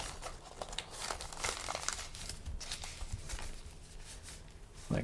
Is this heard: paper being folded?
yes